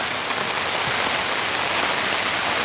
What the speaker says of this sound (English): This is the realities of camping in a rainstorm.